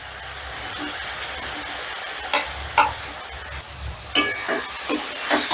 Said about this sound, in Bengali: এবার সয়াবিনটা দিয়েও মোটামুটি ধরো 6 থেকে 7 মিনিট মশলাটা আমি কষে নেব